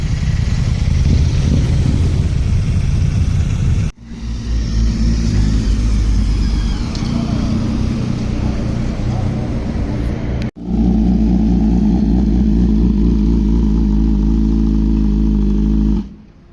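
A 2022 BMW S1000RR superbike engine runs loud and close, holding steady high revs in long sustained stretches broken by two sharp gear-change dips, then cutting off at the end.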